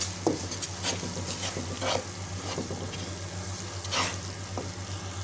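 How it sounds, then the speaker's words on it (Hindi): Crushed red chillies being stirred into spices frying in oil for a turnip curry, a steady close sizzle with scraping spoon strokes at irregular intervals and no talk. "आधा चम्मच मोटी मिर्चें ऐड करेंगे और मिक्स कर लेंगे"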